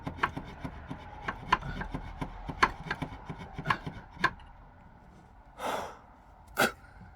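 Hand saw cutting through a soft wooden roof batten on a tiled roof, a run of sharp, irregular short strokes up close, then a pause and a couple of louder rasping pulls.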